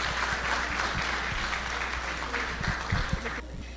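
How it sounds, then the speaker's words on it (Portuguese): Audience applause welcoming a speaker at a Umbanda-themed talk, a dense, sustained round of clapping with a low hum beneath it that continues for nearly four seconds. "Vamos receber com uma salva de palmas Maria Teodora Guimarães."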